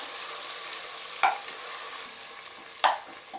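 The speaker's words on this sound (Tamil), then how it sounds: "எண்ணெய் உடைய அந்த உஷ் வந்து அப்படியே கம்மியாயிரும்" Oil sizzling in a pot of Vaniyambadi mutton biryani masala on low heat, a soft steady hiss punctuated by two distinct metallic stirring clinks.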